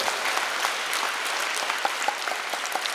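Steady clapping from a congregation at a Catholic Mass in Ngong Deanery, a dense, continuous patter of many hands at moderate distance with no voices over it.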